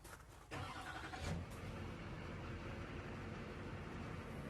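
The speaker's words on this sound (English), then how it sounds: "Would you fire up the truck and bring it back" A pickup truck's engine starts and settles into a steady, close idle while the truck is readied to back up to a fifth wheel hitch; a brief crank-like burst comes early before the continuous low engine rumble.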